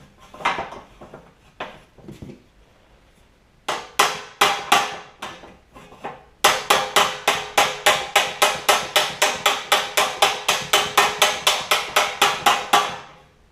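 Metal hammering on a dented valance panel from a 1959 Chevrolet Bel Air, a few scattered blows at first, then a long steady run of sharp, evenly spaced ringing strikes, close and loud with no talk.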